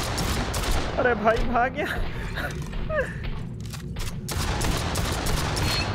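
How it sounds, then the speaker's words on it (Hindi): Shotgun fire in a zombie survival game, several loud separate blasts mixed with other gunfire and commotion, with someone talking excitedly over it. "भाई साहब आई लव दिस शॉटगन"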